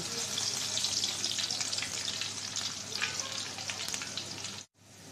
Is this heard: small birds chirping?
no